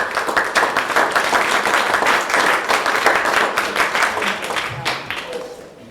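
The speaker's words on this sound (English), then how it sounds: "please give a big round of applause for" An audience at a research speaker series breaks into sustained applause, dense overlapping claps from a crowd that carry on for several seconds before thinning out at the end.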